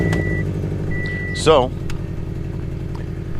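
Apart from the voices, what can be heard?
car with loud exhaust leak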